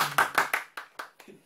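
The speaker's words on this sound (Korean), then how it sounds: "어이, 박수!" In a lecture on the five elements, a few people clap in a quick run of about eight sharp, close claps that fade out gradually, with a brief voice at the start.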